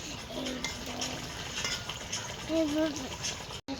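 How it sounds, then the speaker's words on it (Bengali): Koi fish frying in oil in a pan, with a steady close sizzle, occasional stirring and utensil clinks, and a voice briefly heard underneath. "এবার একে একে মাছগুলো দিয়ে দেবো।"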